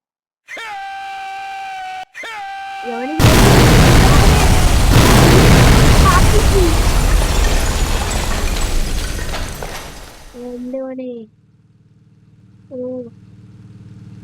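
A loud, booming bomb blast in Roblox erupts and rumbles for several seconds amid game sound effects, with short synthetic tones before and after.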